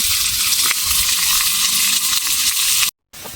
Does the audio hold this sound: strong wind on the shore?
no